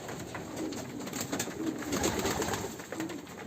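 Breeding pairs of pigeons in a loft coo together in soft, overlapping rolling calls, close and moderately loud throughout.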